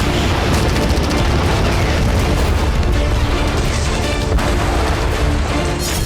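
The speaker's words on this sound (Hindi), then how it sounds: "यूरोप के इशारे पर ज़ेलेंस्की सेना ने रूसी धरती पर भीषण ड्रोन और मिसाइल हमले शुरू कर दिए।" Dense, continuous rumbling booms and blasts from drone and missile strikes fill the whole stretch, loud and chaotic like heavy bombardment, with no voices.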